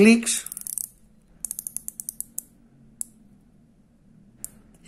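A Carucci watch bezel ratchets as it is turned, giving a string of crisp, close mechanical clicks in a quick uneven sequence, then a few isolated clicks spaced apart, against a quiet low hum.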